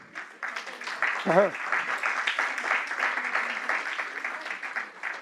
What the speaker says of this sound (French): Oui, applaudissez-les.